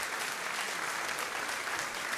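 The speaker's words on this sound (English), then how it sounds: "Hold your applause." Steady applause from a studio audience at a radio show's season opener, dense and even clapping throughout with no gaps.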